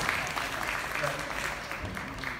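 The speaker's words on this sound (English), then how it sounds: "Can everyone give our partners a round of applause, please?" An audience at a partners celebration night in Vietnam claps steadily throughout, a continuous wash of applause with a voice faintly over it.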